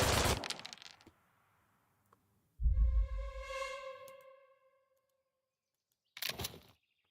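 Gunfire in the World War II video game Valor and Victory: a burst of shots at the start, a low boom, then a tonal whistling effect, and a final short volley after a pause; no talk.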